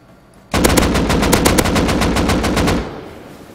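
Rapid automatic gunfire in the survival game Rust, a single sustained burst of about a dozen evenly spaced, loud close shots lasting a little over two seconds, then cutting off into quiet.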